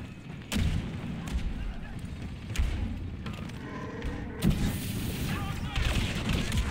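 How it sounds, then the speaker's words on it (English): Deep booming blasts in a game battle, with a sharp loud thump near the start and another heavy burst later, over a steady rumbling din of combat and faint voices. "Heads up, grenade!"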